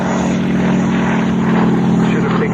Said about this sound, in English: believe how fast this aeroplane actually flies